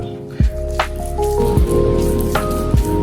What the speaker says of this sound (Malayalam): ഇനി നമുക്കത് ഈ മീനിൻ്റെ മുകളിൽ തേച്ച് പിടിപ്പിക്കാം നന്നായിട്ട്.